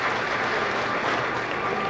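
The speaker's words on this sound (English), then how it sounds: "the fans are now cheering loudly for him" Fans in a hockey arena at a Peterborough Petes versus Barrie Colts junior game cheer and applaud during a ceremony honoring Chris Pronger, a dense, steady wash of clapping and crowd roar.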